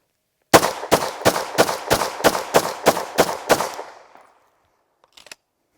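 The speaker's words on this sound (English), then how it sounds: "Obviously, I'm intentionally going to be shooting the hood, but you'll see the effect of shots skipping off the hood of that target." Ten evenly spaced, loud gunshots ring out in a steady rapid rhythm as rounds strike and skip off a car hood target outdoors, followed by a fading echo and a few faint clicks.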